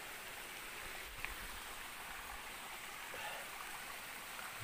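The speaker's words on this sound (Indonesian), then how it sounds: "Nah, ini dia, ada sungai di sini." A river flows steadily nearby at Alas Purwo, a broad continuous rush of water with no voices over it.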